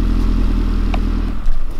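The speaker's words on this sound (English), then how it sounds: "Man, that exhaust sounds good." Newly acquired car's engine and exhaust, a continuous deep rumbling drone heard close up with a brief surge near the end, no talking.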